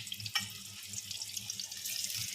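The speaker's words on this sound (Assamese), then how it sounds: "কেৰাহীৰ তেলখিনি গৰম হৈছে, পিঁয়াজ দি দিছোঁ" Chopped onions hiss and sizzle in hot oil in a kadai, an even crackling hiss with a few sharper pops near the start, heard alone and fairly quiet.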